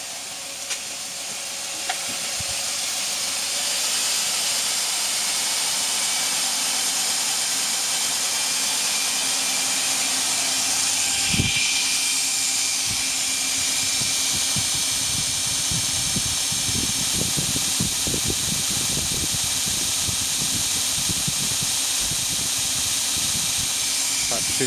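Electric motor on a 2x72 belt grinder spinning up to higher speed, a loud continuous hissing whir that builds early and holds steady with a brief thump partway through.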